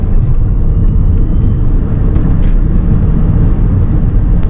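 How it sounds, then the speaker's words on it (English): Steady broadband rumble of wind around the front windows and tyre roar on the road inside a 2019 Hyundai Kona Electric at highway speed, loud and unbroken with no talk. "at highway speeds, you get a moderate amount of sound coming from the front window area, as well as road noise from the tyres"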